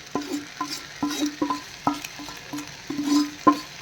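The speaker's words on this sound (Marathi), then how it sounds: "आता काय करायचं आपण ज्या भाज्या सगळ्या तळून ठेवलेल्या तर मसाला टाकलेला होता तो आता या तांदूळामध्ये एकत्र परत एकदा परतायचा आहे" Rice tossed with fried vegetables and masala in a pan for masale bhaat, with quick rhythmic metallic scrapes and taps of a spoon against the pan over a light sizzle, heard up close.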